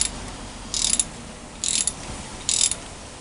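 A ratchet wrench tightens bolts on a small block Chevy during a V-belt to serpentine conversion, giving three short bursts of quick metallic clicking separated by quiet pauses, close and fairly clear.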